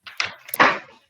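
An indoor door is pulled shut with a brief rattle of the handle and then a single close, solid thud of the latch, followed by silence.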